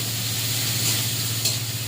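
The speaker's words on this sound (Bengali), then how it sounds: "চিংড়ি মাছটা, পেঁয়াজটা হালকা ভাজা করে সবজিগুলো দিয়ে দেবো।" Shrimp and onion frying in a pan give a steady, close, loud sizzle with a soft stirring scrape partway through.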